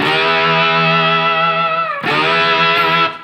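Slide guitar in open tuning playing a blues phrase, sustained bright notes with a wavering vibrato shake and a sliding pitch drop, followed by a fresh struck chord, loud and alone.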